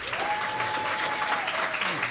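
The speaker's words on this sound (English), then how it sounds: "please join me in giving a hearty welcome to the Vice President of the United States, Mike Pence." A crowd of troops in Hawaii breaks into steady applause for the US Vice President, many hands clapping together in a dense, sustained roar, with a voice briefly audible underneath.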